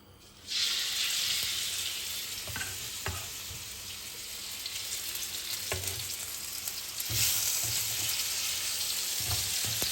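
Chicken pieces frying in oil in a hot pan, a steady bright sizzle running throughout with a louder burst near the start and again later, plus occasional clinks and stirring knocks.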